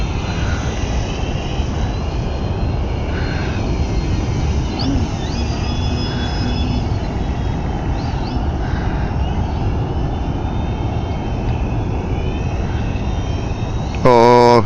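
Small propeller airplane in flight, descending over Long Island Sound, heard as a loud, steady cabin engine drone that holds constant throughout, with a short louder burst at the very end.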